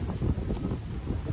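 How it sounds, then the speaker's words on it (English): Wind blusters outdoors against a microphone, a low rumbling buffet that rises and falls irregularly, filling the short stretch at steady moderate loudness with no other distinct sound. "If the wind's kind of loud, okay."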